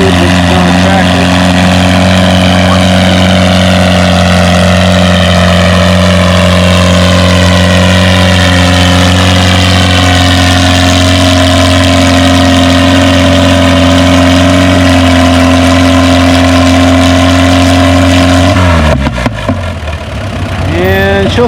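A pulling tractor in a 3 mph, 2,000 pound class at a tractor pull holds a loud, steady, strained engine roar for about nineteen seconds, then cuts off abruptly, leaving a brief rough tail.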